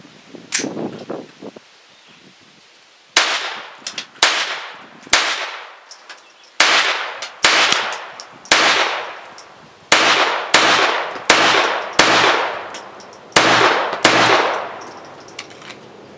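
Walther PPQ pistol in .22 LR firing about a dozen sharp, loud shots in a steady paced string after a short pause, each crack followed by a brief decaying echo outdoors.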